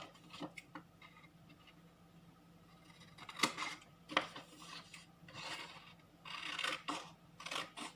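Scissors cutting out a paper charm, a series of soft, close snips and rasping paper rubs at an irregular pace, fairly quiet and with no talking.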